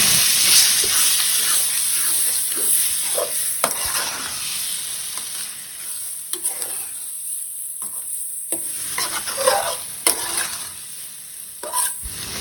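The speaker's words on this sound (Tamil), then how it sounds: "இந்த கிரேவியில் நல்லா இதை மிக்ஸ் பண்ணி கொடுத்துடலாம்" Fried onions stirred into a sizzling beef masala gravy with mint, a constant hiss of frying with scraping stir strokes and occasional clinks, close and steady throughout.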